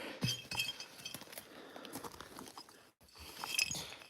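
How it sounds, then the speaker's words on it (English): A big glass bottle is picked up outdoors by a lake, giving a few light, faint clinks and rattles over a constant rustling background. "Big old glass bottle."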